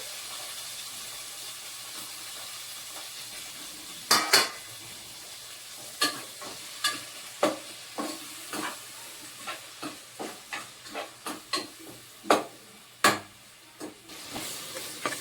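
Onions tossed into a pan for a Telugu pumpkin pulusu, sizzling softly with a string of sharp, evenly spaced stirring scrapes and clacks that pick up in pace over a low steady fry.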